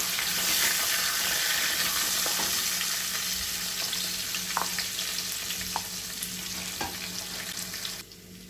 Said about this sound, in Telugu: మిక్సీ పెట్టుకున్న ఈ కరివేపాకు పచ్చడి వేసేస్తున్నానండి